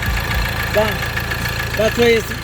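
A Ford Transit Connect engine with a worn crankshaft pulley (harmonic balancer) runs with a steady low rattling throb, close and continuous, while people talk over it.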